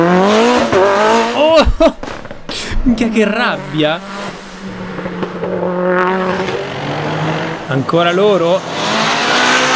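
Nissan GT-R with a K47 turbo and external wastegate revs hard and squeals its tires; the engine roars loudly beneath excited Italian talk throughout.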